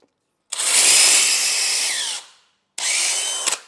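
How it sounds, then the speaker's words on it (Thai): A DeWalt DCD996 cordless drill bores into softwood in two bursts, a loud whining run of about two seconds, a short pause, then a second shorter run ending with a brief catch. "ในการเจาะไม้นะครับสะดวกสบาย นะครับ สำหรับดีวอลรุ่นนี้นะครับ"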